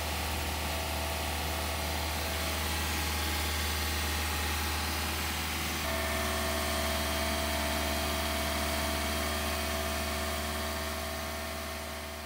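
Mazda MX-5 ND 2.0 engine fitted with a BBR tuning kit idling steadily, a smooth even hum that shifts slightly in pitch midway and stays constant and close with no talking.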